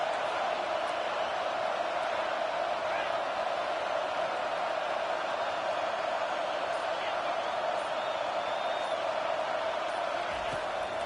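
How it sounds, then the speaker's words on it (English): Home crowd roaring at a college football game against Texas as the defense tries to get off the field on third down, a steady, loud, unbroken wash of stadium noise with no letup. "Here comes this home crowd as the defense tries to get off the field on 3rd down."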